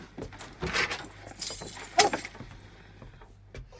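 A bunch of keys jangles in a few short, bright shakes, close by, with faint clinks between them.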